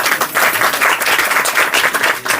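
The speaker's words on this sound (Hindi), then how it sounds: "अपने लिए जोरदार तालियां हो जाए।" Lively applause from a seated audience at a spiritual class, a dense, energetic clatter of many hands clapping close by, continuous and rhythmic throughout.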